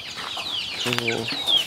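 Native chickens cluck close by in a short, busy run of calls over faint background noise.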